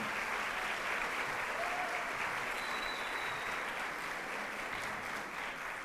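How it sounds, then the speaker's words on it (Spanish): Sustained applause from an audience at a university design conference, a dense even patter of clapping that holds steady throughout at moderate distance. "para los cuales pido un fuerte aplauso a Emiliano Godoy, Ariel Rojo, Liz Gómez Coel"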